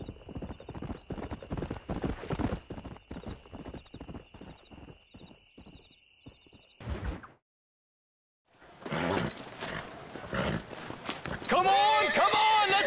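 Horse hooves clip-clop at a steady gallop in the Red Dead Redemption game, a loud rhythmic run of beats with a whinny, ending abruptly before a brief silence, then busy game noise and voices resume.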